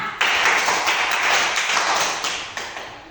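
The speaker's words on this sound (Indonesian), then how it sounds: "tepuk lima Bapak Ibu guru. Tepuk lima." A group of teachers claps a five-count rhythmic pattern in unison, the crisp handclaps coming in steady repeated bursts over a few seconds at close range with no talking.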